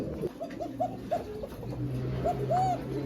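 Fancy pigeons at a seller's loft coo in soft repeated rounded calls, a short run of notes followed by a longer coo, over a low background hum.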